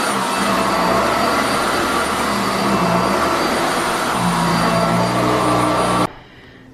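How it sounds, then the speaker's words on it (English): A vacuum cleaner runs on a dark wood floor during a home morning cleaning, a loud, steady whooshing roar that holds for about six seconds and then cuts off abruptly, leaving a faint room hum. "So this is gonna be the space I vacuum for this morning's morning routine."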